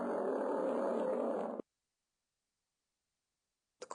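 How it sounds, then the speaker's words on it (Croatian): A lion roars in one low, rough burst lasting about a second and a half, then cuts off into silence before a short faint sound at the end. "Lav."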